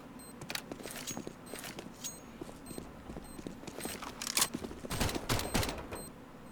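Rapid bursts of gunfire in the video game Counter-Strike: Global Offensive, with sharp repeated shots spraying through smoke, denser and louder toward the end, with no talk.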